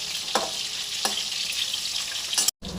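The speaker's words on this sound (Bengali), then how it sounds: "এবার এক পাশটা ভাজা হোক।" Chilli chicken pieces fry in a pan with a steady, close hiss of oil and a few sharp crackles and spatters, ending in a brief drop to silence.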